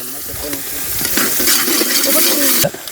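Chili powder and peanuts drop into a hot frying pan of spiced masala for an eggplant curry. A loud, close sizzle builds and hisses steadily under brief stirring scrapes, and a voice speaks over it.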